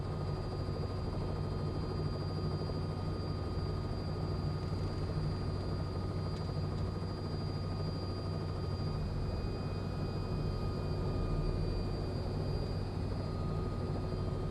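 Helicopter flight in Microsoft Flight Simulator over Melbourne: a steady, continuous rotor and engine drone with a constant tonal whine, even and unbroken throughout with no voices.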